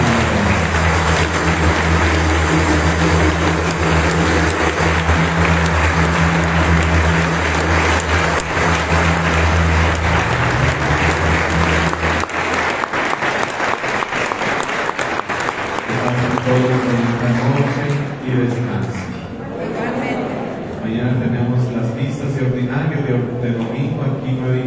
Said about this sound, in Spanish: ¡Fuerte el aplauso al Cristo!